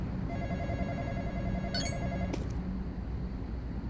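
Telephone rings inside a security booth in a horror video game, a pulsing electronic ring heard faintly over a steady background hum, followed by a brief sharp chime.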